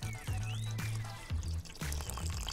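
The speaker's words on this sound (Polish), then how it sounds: "A żeby wszystko się połączyło, potrzebna mi jest jeszcze letnia woda." Lukewarm water is poured into a dough mixture for vegan tofu wraps, with short trickling and splashing bursts alongside steady background music.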